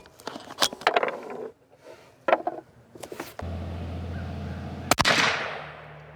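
A CZ gun fires a single sharp round late on, loud and close, following earlier clicks and knocks of handling and a steady background hum, with no talk.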